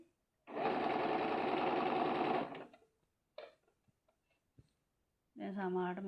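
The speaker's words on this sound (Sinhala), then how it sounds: "දැන් සමහරට මමත් මහගෙන යනවා" A sewing machine stitches a trouser hem in two separate runs: a loud, even burst of about two seconds, then quiet with a few small clicks, then a second run starting near the end.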